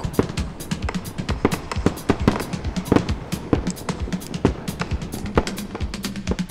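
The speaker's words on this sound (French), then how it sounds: "Oui, des feux d'artifice!" Rapid, irregular bursts of fireworks crackle and pop continuously, dozens of sharp bangs overlapping with no pause, loud and close.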